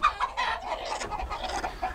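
Hens in a big farm chicken coop cluck and murmur close by in a busy, overlapping chorus, with short louder squawks rising over a steady background of softer clucking.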